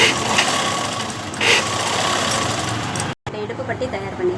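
A sewing machine running a straight stitch along a fabric waistband, a steady close whirring hum through most of the clip, then a brief stop and quieter intermittent running.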